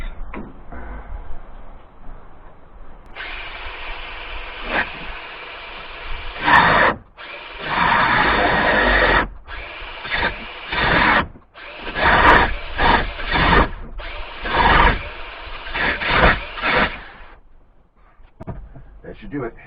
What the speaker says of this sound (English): I got my angle grinder, and I got my little thing here.